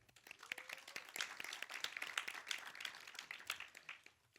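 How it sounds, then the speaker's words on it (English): An audience in a small theater applauds for a student team, giving dense, steady clapping from many hands for several seconds at fairly low level before it tapers off. "So let's give them a round of applause."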